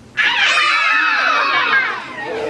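Kindergarten children in a Snow White class play scream together, a loud, sustained high-pitched group shriek that starts abruptly and holds for about two seconds before trailing off slightly.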